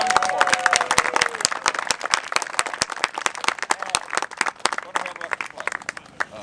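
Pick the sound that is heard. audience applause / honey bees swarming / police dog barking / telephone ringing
audience applause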